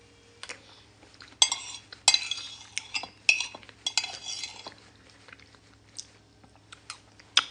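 Cutlery scrapes and clinks against a plate while someone chews the last bite of bibingkang malagkit, a sticky rice cake with coconut custard, in a string of close, uneven clicks and soft mouth sounds with no talking.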